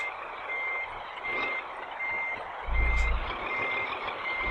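Repeated reversing beeps from a truck in Euro Truck Simulator 2, steady evenly spaced tones over a continuous engine hum that swells into a louder low rumble near the end.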